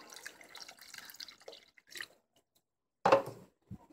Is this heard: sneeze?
no